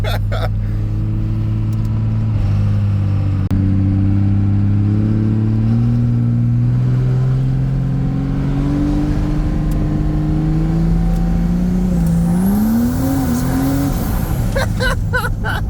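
A 2nd gen shorty Cummins truck with a compound-turbo 6.7 diesel making 1000 horsepower drones loudly up close, then launches hard as the engine climbs in pitch, with a brief voice near the end.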